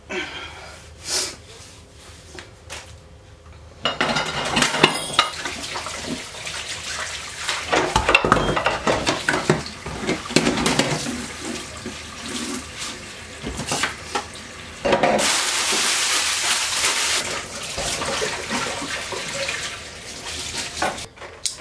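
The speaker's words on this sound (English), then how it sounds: "But I need to wash the plates first." Plates being washed under a running kitchen tap: water gushes in bursts, with dishes clattering and splashing and louder steady flow near the end, close and without speech.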